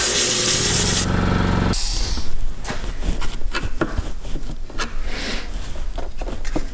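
Compressed air hisses in a loud blast from a blow nozzle to clean a Husqvarna 365 Special chainsaw, cutting off after about two seconds, followed by scattered scraping, rubbing and tapping of handling close by.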